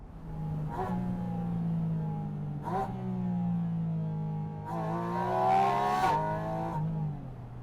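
A Porsche engine on the Nordschleife revs loudly and close, its tone climbing and dropping through several gear changes, with a brief rasping burst near the end.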